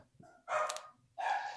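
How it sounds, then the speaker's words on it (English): A dog gives two sharp barks, close by, with a short pause between them and a faint yip before the first. "If you hear Brownie barking, apologies"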